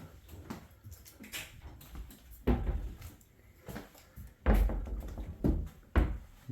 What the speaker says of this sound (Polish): Teraz wszystko ładnie zamkniemy. Drzwi fajnie hamują.